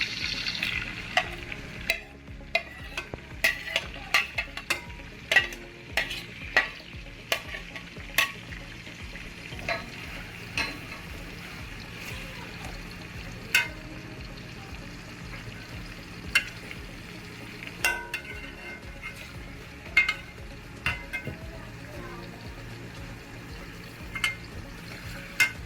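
Onions frying in oil in a pot for chicken biryani, giving a continuous soft sizzle broken by frequent sharp clinks and scrapes of a spoon stirring, moderately loud and close, with no talking.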